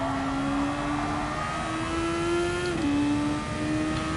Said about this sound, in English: Alright, I'll be quiet, just listen to the car.